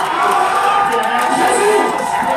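A church congregation, in the middle of worship, breaks into sustained cheering and acclamation, a loud, dense wash of many voices shouting and whooping together that continues without a break.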